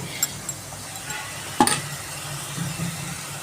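Onions stirred through oil in a pan for an egg dry recipe, a soft low sizzle with a few light scrapes and one sharp clink of the utensil against the pan.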